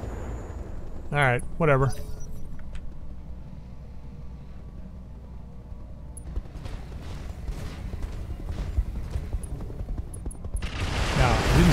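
Mech weapons fire in Roguetech, a BattleTech mod, as a dense rumbling fusillade of gunfire and impacts that runs behind and around someone speaking briefly, with a louder burst near the end.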